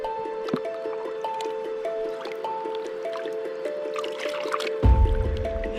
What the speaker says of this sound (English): So I'm gonna bring you along for this one, so I'm gonna pan this out